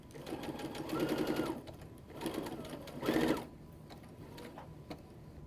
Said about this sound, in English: I can take it to my sewing machine and sew a 1/4 inch seam right on this line.